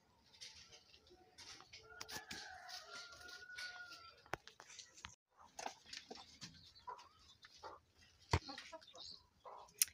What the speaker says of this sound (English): So now let's go and check on the chickens.